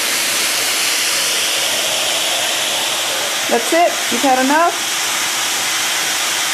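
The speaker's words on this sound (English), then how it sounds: "Stop attacking the vacuum cleaner." A vacuum cleaner drones steadily and loudly throughout, with a person briefly speaking over the motor noise.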